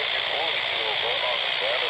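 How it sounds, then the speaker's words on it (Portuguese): Radio interference from an aircraft transmission comes through as a steady hiss of broadband static with faint warbling tones sweeping through it, continuous and fairly loud, with no voices. "Desculpa aí por essa interferência, mas é preciso ligar o rádio pra defender os aviões"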